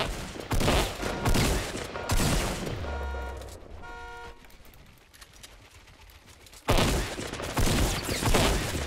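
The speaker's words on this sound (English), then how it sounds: "So today, we are doing some shotgun training" Shotgun blasts in Fortnite Battle Royale ring out as loud, dense bursts at the start and end, framed around a quieter stretch carrying tonal game effects.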